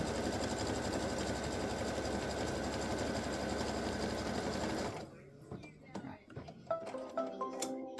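An embroidery machine stitches a design with a fast, steady mechanical hum and needle chatter for about five seconds, then stops, leaving clicks and quiet rattles.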